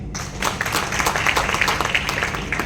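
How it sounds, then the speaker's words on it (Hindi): An audience at a women's group event breaks into applause, a close, continuous patter of many hands clapping with sharp individual claps standing out. "जोरदार तालियां"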